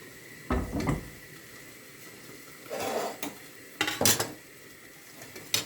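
Frying pans on a stovetop are shifted and set down, producing several sharp metallic clanks and scrapes in uneven bursts, close and loud, with sizzling faintly underneath.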